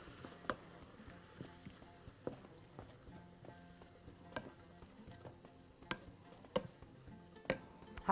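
Garlic stirred in a pan while liver cooks, a faint low sizzle broken by sharp, irregular clicks of a utensil against the pan every second or so, with some quiet background noise.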